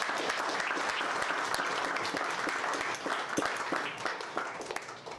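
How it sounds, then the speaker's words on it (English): An audience at a fireside chat on the crisis of liberalism gives a round of applause for two distinguished speakers. The sustained, fairly dense clapping dips briefly partway through, then carries on unevenly with a few sharp individual claps standing out. "please join me in giving a big round of applause for these distinguished two speakers"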